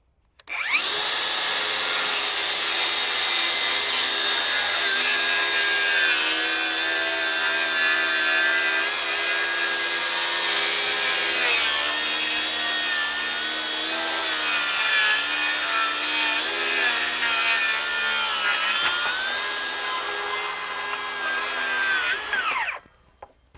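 DeWalt DCS590 cordless circular saw cutting wood on a fully charged battery: a loud, steady high motor whine with rough cutting noise runs almost the whole time, then cuts off abruptly at the end.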